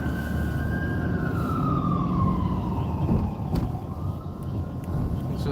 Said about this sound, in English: they better turn that siren on